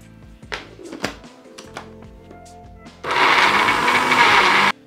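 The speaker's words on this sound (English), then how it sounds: "Now my blender isn't the best, so it's not blending this very well." A home blender runs loud and steady for nearly two seconds, blending a vegan Beef Wellington filling seasoned with smoked paprika, after a few soft clatters and knocks from the kitchen.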